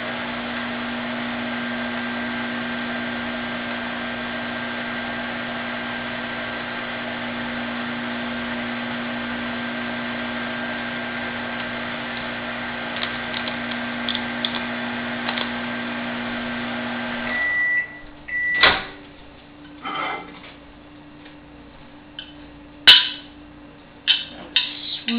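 A microwave oven cooks French toast in a mug with a steady, close electrical hum for about seventeen seconds, then cuts off; a short beep follows, with scattered clicks and handling noises after.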